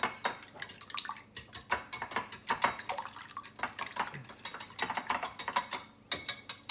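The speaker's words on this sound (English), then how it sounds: "we're going to take 5 eggs and we're going to whisk them up quick" Five eggs are whisked up quickly in a bowl, making a rapid series of light clinking, tapping strokes close to the microphone with a wet sloshing edge.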